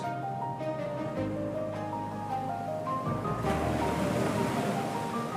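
Ocean waves out on the open sea, a steady broad wash of surf and wind noise that swells louder midway, with faint tonal music underneath and no voices.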